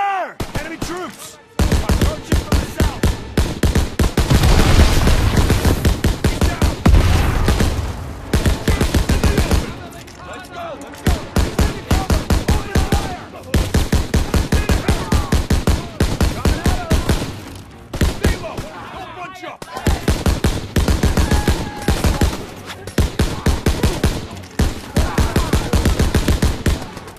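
Sustained battlefield gunfire from enemy troops in Call of Duty WW2, with dense machine-gun bursts, rifle shots and heavy thuds, loud and continuous with short lulls, and shouted voices mixed into the fighting.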